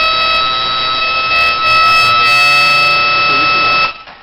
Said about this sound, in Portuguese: Na saída do receptor eu liguei esse amplificador aqui para nós podermos ouvir o sinal emitido.